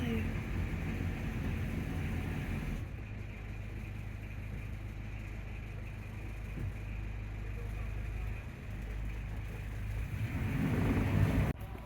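A new narrowboat engine rumbles steadily as the boat moves, with faint background voices and a brief louder knock near the end as the boat hits the wall.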